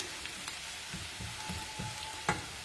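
Onions frying in a pan, a soft steady sizzle with a few light stirring scrapes and one sharper clink of utensil against the pan, heard alone.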